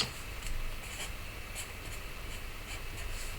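Pencil drawing on a sheet of tracing paper: faint, close scratchy strokes in short irregular bursts with quiet pauses between them, heard alone with no talking.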